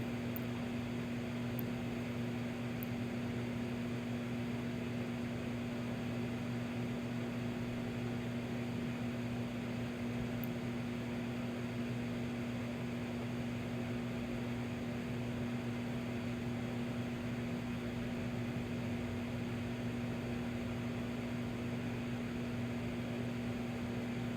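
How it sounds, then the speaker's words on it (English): A steady electric hum from a microwave oven drones on evenly with no breaks, running continuously in a quiet motel room. "it's going to have to go back in the microwave for another minute"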